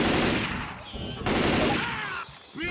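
Gunfire rattles in the video game Left 4 Dead 2, dense bursts of rapid shots loud and close, broken by short pauses with voices mixed in.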